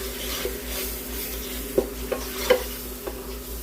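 Apple cider vinegar and brown sugar are stirred in a pan over a faint sizzle, with soft scraping and a few light utensil clicks against the pan. It is quiet and close.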